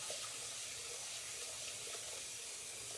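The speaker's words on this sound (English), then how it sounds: "you want to come over to the sink here, and what I do is, the first thing I do is I rinse it" Tap water running steadily into a sink while tricolor quinoa is rinsed, a soft, even splashing hiss with no talk.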